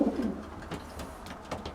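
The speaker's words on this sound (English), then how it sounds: "This bird here I'm feeding now is a Dacian cross with Van Roy." A racing pigeon, a Dacian cross with Van Roy, coos softly inside a loft, a few low, rounded coo notes close by against a quiet background.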